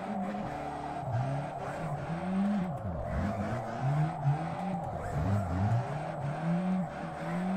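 A weak-engined car in a video game strains and revs, its pitch sliding up and down in wavering sweeps with some tire squeal, steady and close throughout.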